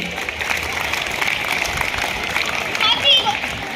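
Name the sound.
audience clapping at a school annual function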